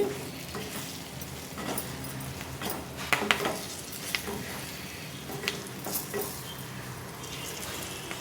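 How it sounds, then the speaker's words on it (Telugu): Curry leaves stirred into stuffed brinjal fry with chilli-garlic masala in a pan, quiet scraping and occasional light clinks of a spoon against the pan over a soft sizzle. "ఫైనల్గా పైన మళ్ళీ కరివేపాకు కలుకోండి"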